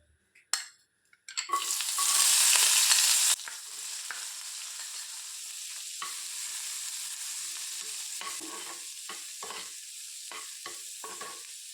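Onions hit hot oil for butter chicken with a loud burst of sizzling that settles into a steady frying hiss, broken by scattered scraping strokes of a stirring utensil.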